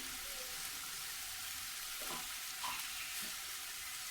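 Vegetables fry in a pan with salt and turmeric, a constant close sizzle broken by a few brief stirring scrapes, no voices.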